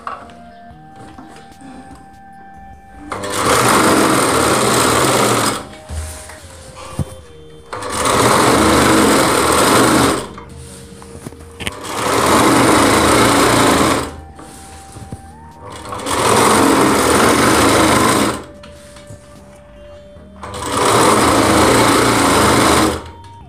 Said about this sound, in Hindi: इस तरीके से हमें एक किनारी से सिलाई लगा देनी है